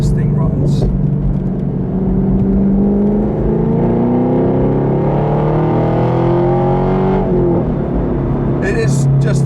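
A 2018 Chevrolet Camaro SS 1LE V8 revs and accelerates in a loud, close run, its engine note climbing in rising sweeps before settling back, with a brief burst of noise at the start and end.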